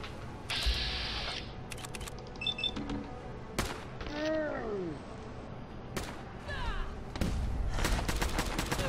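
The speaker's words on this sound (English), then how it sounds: "Fucking gamma guns, man." Gamma gun fire in Fallout 4: a few sharp bursts and zapping, warbling energy blasts break out amid assorted game noises, with a voice occasionally talking over it.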